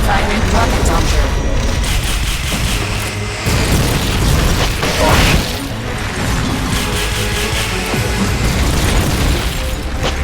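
A rocket launcher fires in Metal Gear Solid Peace Walker, with heavy booms and bursts over dense game noise and mechanical clatter, while a voice talks over the action.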